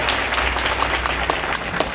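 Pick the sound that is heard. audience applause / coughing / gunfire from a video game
audience applause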